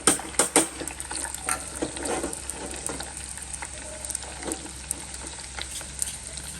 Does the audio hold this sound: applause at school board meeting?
no